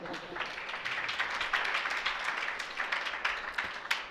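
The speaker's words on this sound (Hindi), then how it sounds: "देखो तुम्हारी इस बात में भी कैसी तालियां बज रहे हैं।" Audience applause at a Jain religious discourse, a dense wash of many hands clapping steadily for about four seconds with no speech over it.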